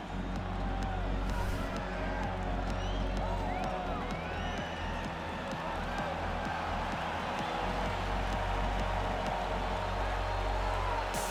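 Sold-out arena crowd in the EA Sports UFC 4 fighting game, a dense continuous roar with scattered whistles and shouts, loud and unbroken throughout.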